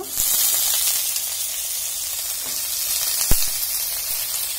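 Pumpkin pieces frying in a hot pan during home dinner cooking give a steady, close sizzling hiss throughout, broken by a couple of sharp clicks from the pan, with no talking.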